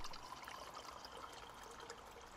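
Water pours steadily into a cup for a lemon, ginger and honey herbal tea, a faint continuous trickling stream with no talking.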